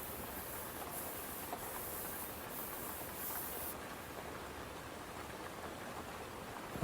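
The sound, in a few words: rain falling at night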